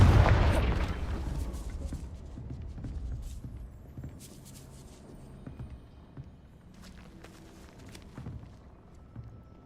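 A Confringo blasting spell goes off in the Hogwarts Legacy video game: one heavy, booming blast at the very start that rumbles away, followed by quieter footsteps and small scattered clatters.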